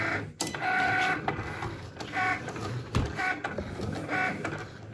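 A Cricut cutting machine cuts a design, giving a steady mechanical whir with repeated short bursts of motor movement and clicks at close range, with no voices.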